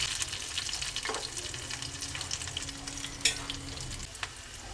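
Slit green chillies frying in a hot ghee tadka for sarson ka saag, giving a steady close sizzle and crackle with a few stirring clinks, no voices.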